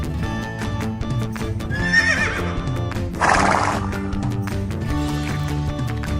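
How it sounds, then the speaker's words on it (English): A horse whinnies loudly over background music, its descending neigh standing out mid-clip, followed by a second shrill burst; a toy-style animal sound from a children's animal-learning sequence. "Brown horse."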